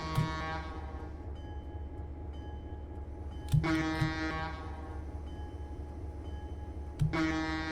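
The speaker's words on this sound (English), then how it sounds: "Love this old air horn." Old locomotive air horn on a Clinchfield Railroad F unit in Train Simulator 2020, three loud chordal blasts at intervals over a low steady engine rumble.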